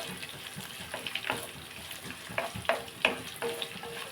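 Chopped onions and green chillies frying in a pan, a continuous sizzle broken by several sharp spoon scrapes and stirs, close up with no talking.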